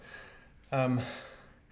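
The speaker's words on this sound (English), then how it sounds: "You see I'm breathing pretty hard" Loud, heavy gasping breath after an X3 bar resistance workout, one strong harsh inhale-exhale burst with a voiced edge standing out from quieter background breathing.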